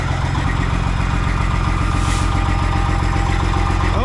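Diesel engine of a cabover truck raised to high idle, a steady loud rumble with dense low-frequency pulsing that holds constant throughout, running alone without speech.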